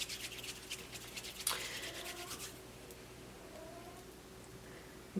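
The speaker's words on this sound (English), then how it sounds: "Listen to the pleasant sound of my cat in heat" A female cat in heat lets out faint, drawn-out yowls from another room, partly buried under close scraping and rubbing from sculpting silicone.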